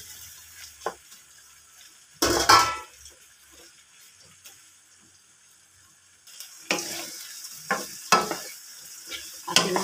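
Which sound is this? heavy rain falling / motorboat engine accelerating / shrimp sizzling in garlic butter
shrimp sizzling in garlic butter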